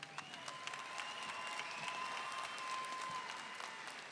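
Sustained applause from a crowd at a 2022 high school graduation ceremony honoring the graduating seniors, a steady wash of many hands clapping, moderately distant, with some faint voices mixed in.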